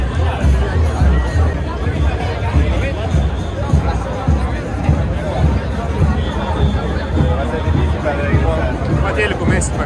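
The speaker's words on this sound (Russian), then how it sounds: "Мы стали в толпе, не можем пройти никуда. Все болеют за Месси." A dense crowd of Messi fans packed into a New York street, a steady wash of chatter and babble from many voices close around, with occasional louder shouts rising out of the hubbub.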